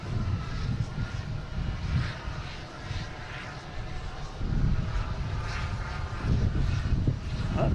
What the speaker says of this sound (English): is a JetBlue from Tampa. A220, flight 392